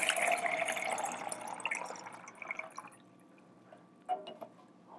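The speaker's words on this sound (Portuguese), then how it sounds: "conseguir transferir toda essa água de uma lata para outra, sem deixar a água cair" Water poured from one can into another during a children's water game, a splashy trickling and dripping stream up front that thins out midway, followed by a few isolated drips and small splashes near the end.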